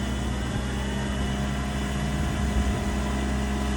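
A diesel-driven EnPak power unit on a 2016 International 4400 service truck idles steadily and close by, a continuous low rumble with even mechanical vibration and no voices.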